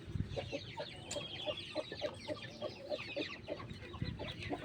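Hens and a rooster cluck steadily around a broody hen's nest of eggs, a rhythmic series of short clucks close by over a busy flock murmur, with no voices.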